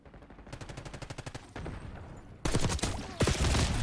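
A SWAT 5.56 burst rifle with the Void blueprint fires in Black Ops 6 on the Hideout map: rapid, regularly spaced shots, then louder, denser bursts in the second half, close and alone without talk.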